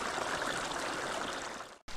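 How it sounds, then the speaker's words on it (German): Mountain stream in the Sierra Nevada, water rushing in a steady, dense wash close by, cutting off abruptly near the end. "Wasser."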